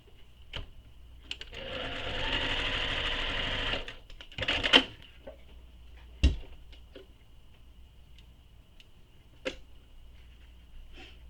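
A sewing machine stitches a fabric seam for a handbag in one steady run of about two seconds, close and fairly loud, followed by a few sharp clicks and taps in a quiet room.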